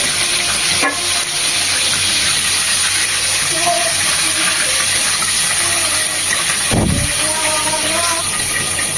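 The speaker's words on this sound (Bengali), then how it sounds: "এগুলো উল্টে পাল্টে আরো দু থেকে তিন মিনিট ভেজে নেব" Chicken drumsticks deep frying in hot oil, giving a steady, dense sizzle and crackle that runs throughout at close range, with a brief clatter near the end.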